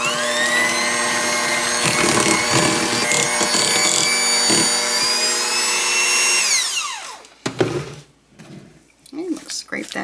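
An electric mixer whirs steadily while beating an egg, egg yolk and vanilla for sugar cookie dough, then winds down and stops, followed by scraping and clatter with a voice talking.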